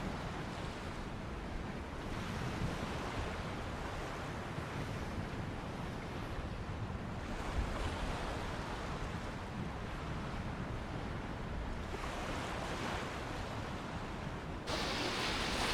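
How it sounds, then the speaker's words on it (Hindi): Ocean waves surging onto a sunny UK beach, a loud continuous wash of surf with slow swells rising and falling, mixed with wind buffeting the microphone and no voices. "ये जो आवाज है ना पानी की, वेव्स की जो आवाज"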